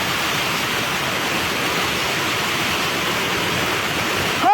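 Heavy rain pours down with strong wind, a constant dense hiss of water that stays steady and fairly loud, ending with a brief sharp knock.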